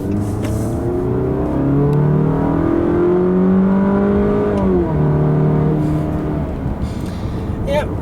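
A 2015 Chrysler 200 Limited accelerates from inside the cabin, engine note climbing steadily through rising harmonics, dipping briefly at a shift around five seconds and then pulling again, loud and continuous.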